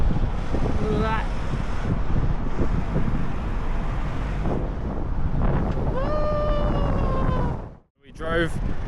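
Gusty wind buffets the microphone on an ocean coast road, a loud steady roar that fills the clip and drops out briefly near the end, with voices talking over it.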